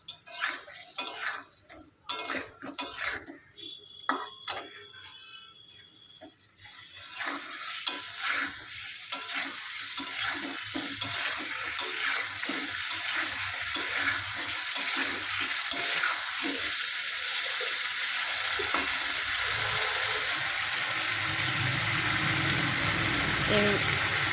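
An onion, ginger, garlic, chili and cumin masala with a little sugar is stirred in a pan, starting with scattered clinks and scraping, then swelling into a steady, growing sizzle that holds to the end.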